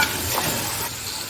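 Tomato paste sizzles and fries in a hot pan while being stirred, a close, steady hiss with soft scraping from the stirring.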